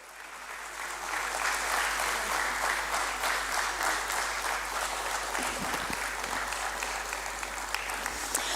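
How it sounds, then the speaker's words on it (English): An audience at a stock exchange listing ceremony at BSE for Neptune Logitek Limited breaks into applause that swells quickly and then continues loud and sustained, with no voices over it. "Can we please have a huge round of applause?"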